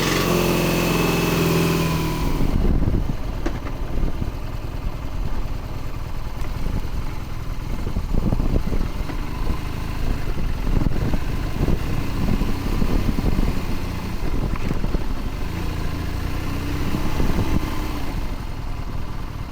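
A BMW Urban GS motorcycle engine hums and revs steadily while riding on the road, a continuous close engine drone with rising and falling throttle, no voices.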